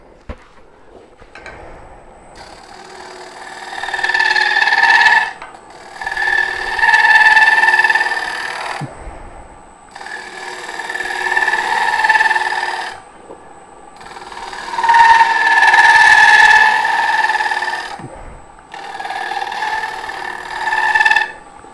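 Shear scraping on a wood bowl turned on a lathe, cleaning up the upper rim and tenon: bursts of high tool-on-wood hiss and whine alternate with quieter pauses, steady and close.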